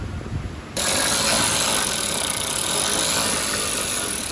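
A ratchet works loose the catback exhaust hangers under a VW Mk8 GTI, starting abruptly after a moment of quiet and running as steady, loud mechanical clicking and grinding close by.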